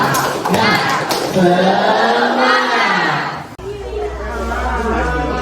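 A classroom of students does a spirit-clap cheer, many young voices shouting together loudly over claps for about three seconds before the noise drops off and the room quietens.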